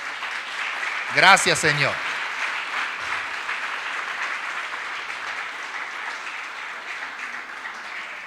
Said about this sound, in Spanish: ¿Te atreves a darle un aplauso al nombre del Señor esta tarde?